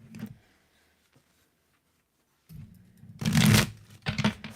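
Two bursts of shuffling tarot cards, a brief riffle then a louder, longer cascade of flicking cards close by, with a short pause between.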